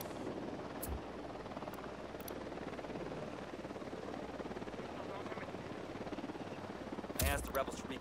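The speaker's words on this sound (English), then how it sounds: "Chopper inbound." Helicopter in the video game Ghost Recon Wildlands, a steady rotor drone holding throughout, with a short burst of louder noise near the end and voices mixed in.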